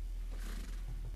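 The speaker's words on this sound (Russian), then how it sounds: "Это была лошадь? Это лошадь была" Horse neigh from the Tasty Planet Forever video game, a short whinny with a buzzy rise and fall over steady low game background hum, fairly faint and alone.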